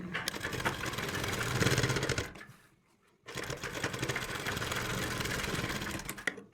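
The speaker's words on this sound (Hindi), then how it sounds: "उसके बाद हमने यहाँ पर डबल सिलाई लगानी है।" A sewing machine runs a double stitch along a kameez seam, with a steady fast mechanical whir up close, a brief pause in the middle, then more continuous stitching at the same pace.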